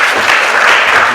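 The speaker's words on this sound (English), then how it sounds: "Let's give him a big round of applause, please." Audience applause for a presenter coming on stage at a university event, a dense, steady wash of clapping at full volume with no voices over it.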